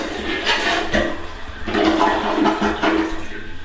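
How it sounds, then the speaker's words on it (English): A skirted toilet in a remodeled master bathroom flushes, giving a loud rushing, gurgling swirl of water that surges and swells for several seconds, alone with no talking. "And the toilet flushes great."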